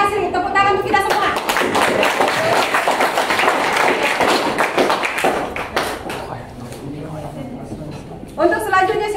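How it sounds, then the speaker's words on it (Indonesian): Audience applause and clapping at a university teaching-practice session, steady and fairly loud for several seconds, with talk over the start and end. "Tepuk tangan untuk kita semua."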